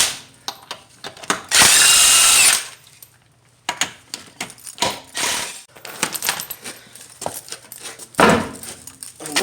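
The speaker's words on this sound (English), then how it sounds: "I'm going to be using a 20mm socket from my impact gun, and I'm going to be removing them" An impact gun with a 20mm socket removes the wheel lug nuts on a 1992 Lexus ES300: several loud, close rattling bursts of hammering, one long sustained run and shorter bursts, with clinks of nuts and tools between them.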